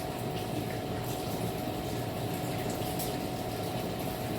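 Spring onion rinsed under a running kitchen tap, a steady rushing, splashing stream of water at close range, even and unbroken throughout.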